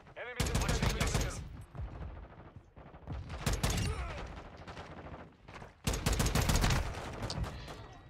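FTAC Recon rifle gunfire in the video game Modern Warfare 2, loud bursts of rapid repeated shots that come in several rolling volleys with brief gaps between them.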